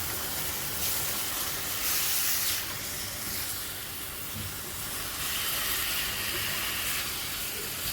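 Yam being stirred with instant curry gravy mix in a pan for yam do pyaza, a steady sizzling hiss that runs throughout with no talk.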